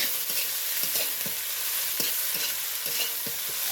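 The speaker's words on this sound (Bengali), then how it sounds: "মটরশুঁটি দিয়ে দিলাম, দিয়ে একটু নেড়ে চেড়ে নেব" Peas being stirred into chicken fried rice in a hot pan, with a steady sizzle and repeated scraping strokes of the spoon at a regular rhythm, heard close and alone.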